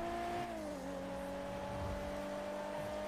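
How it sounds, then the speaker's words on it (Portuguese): A steady video game motorcycle engine drone, ridden in a city, holds a sustained tone, dipping slightly early on, then droning on evenly and loudly throughout. "Esta moto anda a sapar na cidade"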